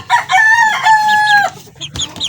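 Chickens and a rooster in a backyard coop, loud and close: a drawn-out harmonic crow from one bird, then a few short clucks and calls trailing off, with no talking.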